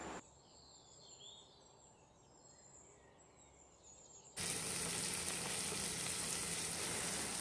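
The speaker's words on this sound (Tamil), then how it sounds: "அதோட ஒரு லார்ஜ் சைஸ் ஆனியன் அதையும் நல்லா ஸ்லைஸ் பண்ணிவிட்டு அதையும் போட்டு நல்லா வதக்கிடலாம்" Sliced large onion and curry leaves sautéing outdoors, a faint sizzle beneath insect and bird sounds that suddenly turns into a loud, steady hiss of frying midway.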